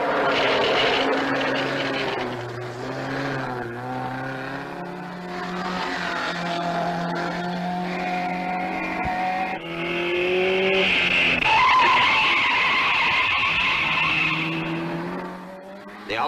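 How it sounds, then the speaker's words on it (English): A 1958 Alfa Romeo rally car races up an Alpine climb in the Coupe des Alpes. Its engine note rises and falls through gear changes, with loud tyre squeal and skidding near the end, all close and without talk. "The Alfa's going like a bomb,"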